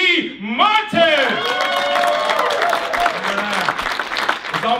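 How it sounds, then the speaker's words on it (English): A large audience at a Wall Street economic summit cheers and applauds loudly and steadily, with whoops rising over sustained clapping throughout; a voice talks over the crowd noise. "I want to hear the loudest cheer you can do."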